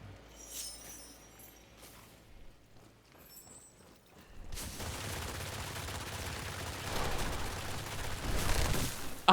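Rapid gunfire from a weapon in the first-person shooter Witchfire, a quiet, sparse opening giving way to a loud, sustained burst of shots and impacts that grows denser toward the end.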